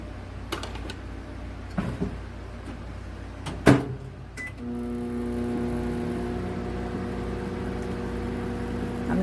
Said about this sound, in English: So I'll put it in the microwave for 3 minutes.